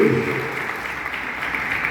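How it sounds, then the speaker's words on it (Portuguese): Church congregation applauding during a worship service, a steady wash of clapping across the whole stretch with a brief voice at the start. "Dá um aplauso ao Senhor."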